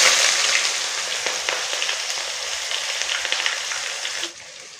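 Onions dropped into hot oil with cloves, black pepper and cumin for aloo biryani, a loud hissing sizzle that gradually settles with faint stirring clicks, then drops away sharply near the end.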